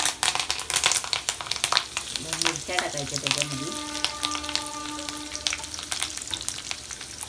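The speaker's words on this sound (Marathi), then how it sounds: "पहिला राई जिऱ्याची फोडणी द्यायची" Mustard seeds and cumin tempering in hot oil for a home-style okra and potato dish, giving dense, close crackling and popping with a constant sizzle and brief speech in the middle.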